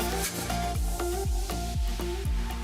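A spoon scrapes repeatedly around a pan of boiling milk over a medium-high flame, rhythmic strokes about twice a second over a steady simmering hiss.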